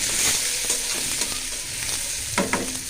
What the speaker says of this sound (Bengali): তারপর আমি কাঁচা মরিচ আর পেঁয়াজটা ভাজা নিব।